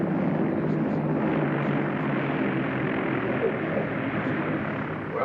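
A propeller aircraft comes in to land on a runway, its engine drone a continuous, loud, steady roar throughout with no voices.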